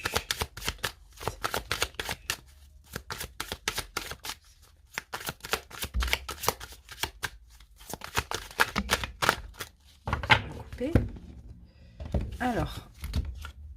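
Oracle cards are shuffled repeatedly in quick riffling bursts, close up, with rapid flicking patterns and a few soft thumps between rounds.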